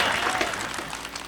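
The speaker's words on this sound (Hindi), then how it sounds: "ताली बजाओ एक बार जोरदार" Enthusiastic audience applause at a Hindi comedy poetry gathering, a dense, loud burst of clapping from a large crowd, steady over the whole moment.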